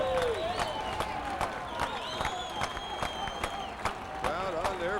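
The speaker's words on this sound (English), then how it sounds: "Crowd on their feet." A baseball stadium crowd cheers and claps from a distance, a sustained roar with scattered sharp claps and whistles, fairly faint and continuous.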